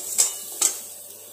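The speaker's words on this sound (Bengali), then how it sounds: "এক চিমটে একটু লবণ দেব, আর 1 চামচ হলুদ দেব, দিয়ে এটাকে ভালো করে একটু নেড়ে নেব।" A spoon scrapes and stirs salt and turmeric in a cooking pan, with two short, quiet scraping strokes close by and no speech.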